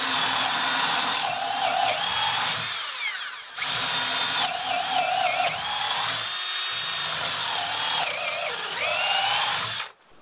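Cordless drill driving a screw into wood during an extreme test, a loud continuous whine of the motor rising and falling in pitch for about ten seconds, with a short pause near the middle before it resumes and stops.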